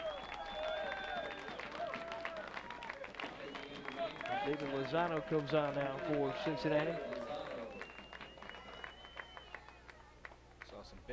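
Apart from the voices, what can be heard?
crowd cheering at a soccer match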